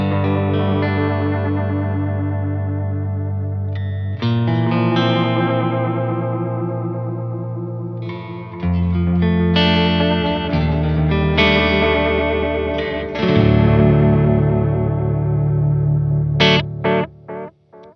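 An electric guitar plays chords and notes through a Keeley Caverns reverb pedal on its deep setting with heavy modulation, a lush reverb, the tones swirling and wavering as they ring out and decay.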